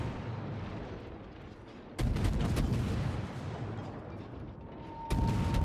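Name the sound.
naval gunfire from USS Black, from World of Warships video game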